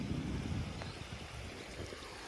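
After rain, water runs out of a filled pond in a soft, continuous gurgle of a flowing stream, faint and steady with no talk.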